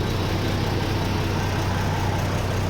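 An Isuzu 175 engine idles steadily with a newly fitted twin-tip exhaust, giving a low, even rumble with no vibration or horn, close and continuous for a few seconds without any talk.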